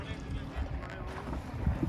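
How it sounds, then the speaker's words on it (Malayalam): Cold wind blows across a lake in Srinagar, Kashmir, buffeting the microphone in faint, uneven gusts, with muffled voices in the background. "നല്ല തണുത്ത കാറ്റടിക്കുന്നുണ്ട്"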